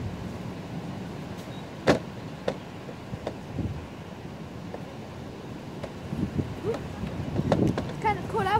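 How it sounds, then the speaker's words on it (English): Wind gusts outdoors on a cold day, a steady rushing buffet against the microphone with occasional thumps and louder gusts, under people talking. "I'm sorry if you can't hear us, it's because there's wind"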